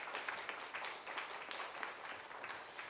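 A seated audience claps steadily to welcome a guest to a talk at a history museum. The applause is even and fairly distant, with no voices over it.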